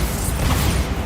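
Bombarda explosion spell in Hogwarts Legacy, a brief, loud, dense roar of blast noise filling the whole short moment with a steady, heavy rumble.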